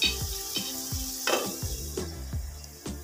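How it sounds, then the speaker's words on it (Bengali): Spice masala for a mutton liver curry fries in a pan, with a soft sizzle and rhythmic stirring strokes, several scraping knocks in a steady beat, heard close up. "আমার মশলাটা অনেকটাই কষিয়ে নেওয়া হয়ে গিয়েছে"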